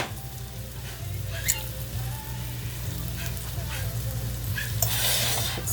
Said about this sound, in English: Let it heat up. You can hear it simmering.